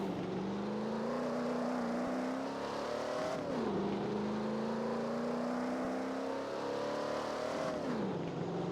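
A Chevrolet LS V8 engine rated at 450 horsepower revs in a racing video game, climbing steadily through the gears in two long pulls, each ending with a quick drop in pitch at the shift, heard alone.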